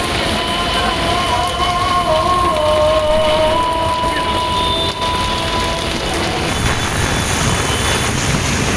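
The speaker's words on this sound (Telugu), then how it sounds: "భారీ వర్షం ఒక్కసారిగా హైదరాబాద్ ను ముంచెత్తింది" Heavy rain pouring down over Hyderabad, a dense continuous roar of falling water with a faint tonal hum underneath, steady throughout.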